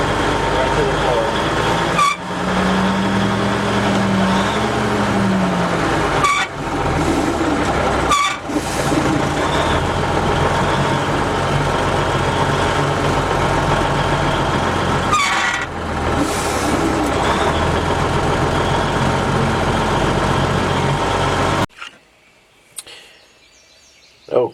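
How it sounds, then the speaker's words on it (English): Air hissing from the leaking brake system of an M816 military wrecker with the engine running, a steady broadband hiss over the idling engine drone, close and continuous, with a few brief clunks, before dropping away near the end. "we're right to the floor, and you can hear the air leaking"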